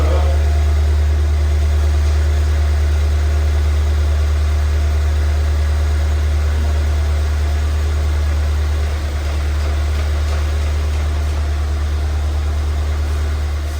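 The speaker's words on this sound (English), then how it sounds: "So let's listen to see if this engine runs smoothly." A freshly rebuilt Ford Fiesta ST engine idles steadily after its first start, a close, even hum with a strong low drone and a slight dip partway through, with no talking.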